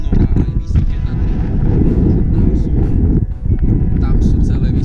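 Wind blowing on the Kraková hoľa summit in the Low Tatras at 1752 m, buffeting the microphone in loud, continuous gusts with a brief lull near the end.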